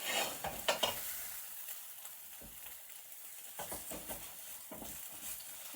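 Cheesy omelette eggs frying in a pan, a soft sizzle with scraping and stirring strokes at irregular moments, fairly quiet and close, no voices.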